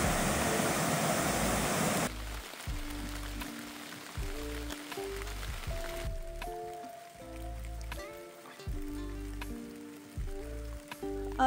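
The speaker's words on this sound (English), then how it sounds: "It is raining something fierce" Heavy rain hammering down near Florence Falls in Glacier National Park, a loud steady hiss that suddenly drops to a softer patter partway through, with rhythmic low tones beneath.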